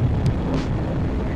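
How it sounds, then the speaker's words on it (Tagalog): Heavy wind roar pressing against the microphone while riding a Kawasaki Ninja 400 motorcycle on an expressway, a constant low rumble with slight gusts, loud and close. "Malakas yung hangin dito sa expressway talaga."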